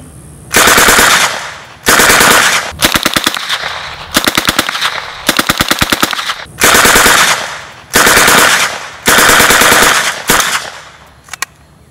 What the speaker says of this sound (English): This is a pretty accurate one as far as machine guns go.